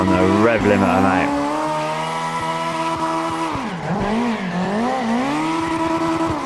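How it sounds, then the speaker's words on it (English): A tuned Spector RS car in the CarX Drift Racing game screams loudly at high revs, bouncing off the rev limiter with rapid stuttering cuts and a brief dip and climb in pitch. "On the rev limiter, mate."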